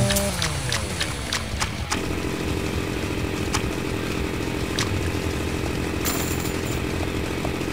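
A video game chainsaw weapon buzzes in a continuous harsh drone, revving sharply at first then holding a steady grinding whine, with scattered game clicks and thuds.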